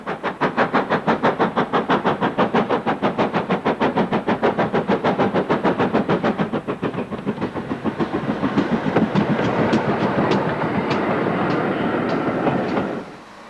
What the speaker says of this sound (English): A regular Severn Valley loco is Hinton Manor, restored in early British Railways black.